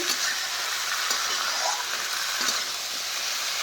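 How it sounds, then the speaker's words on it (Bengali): Capsicum and potato pieces stir-fried dry in a pan with no water, giving a steady hissing sizzle with faint scrapes of stirring throughout. "এখন এটা ভালো করে একটু কষে নিতে হবে।"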